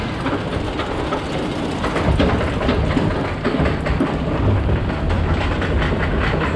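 An amusement park ride train runs past, with rumbling wheels and rattling, clattering cars building to a loud, continuous roar with no talk.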